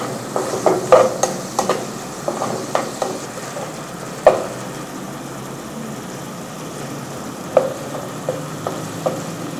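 Ingredients for paneer methi chaman browning in a pan with salt, a continuous close sizzle with scattered sharp spoon taps and scrapes against the pan, and no one talking.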